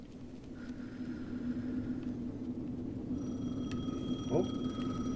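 A telephone rings inside the video game Alan Wake 2, a faint electronic ring repeating over a low rumbling ambient bed, with no talking.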